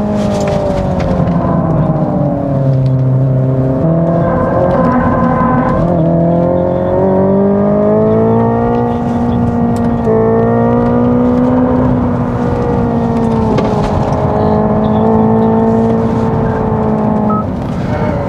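A Hyundai Ioniq 5 N plays its synthetic Ignition-mode engine sound, a loud, continuous engine-like tone that rises and falls through several rev-like swells over a long stretch, with no voices.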